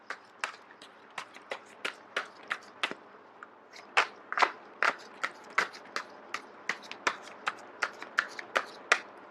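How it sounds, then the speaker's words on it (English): Tarot cards riffled and shuffled by hand, a rapid series of sharp crisp slaps and flutters in steady rhythm, close and fairly quiet with no talking. "I am going to shuffle until the first card drops out"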